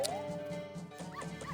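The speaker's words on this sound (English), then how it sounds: "Dog in here." A dog barking in The Legend of Zelda: Majora's Mask, a few short game-sound barks over background game music, with no speech.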